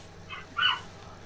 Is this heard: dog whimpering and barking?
yes